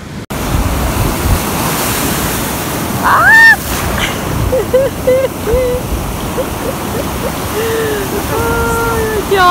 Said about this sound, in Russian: Ай, океан на нас нападает.